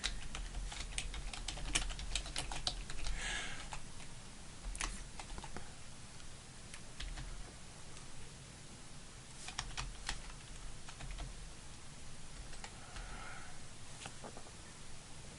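Steady keyboard typing while filling in a requisition form, with clusters of quick keystrokes and short pauses, heard close but fairly soft against a faint background hiss.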